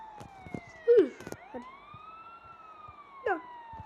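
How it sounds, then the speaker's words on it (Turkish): A wailing electronic ambulance siren in the video game GTA V sweeps slowly up and down, accompanied by short clicks and synthetic game effects and a couple of louder bursts. "Ambulans çok hızlı gidiyor"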